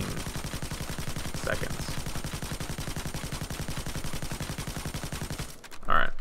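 Rapid automatic gunfire in the heist shooter Payday 2, a long even stream of shots emptying the ammo at a fast steady rhythm, cutting off near the end before a short voice is heard.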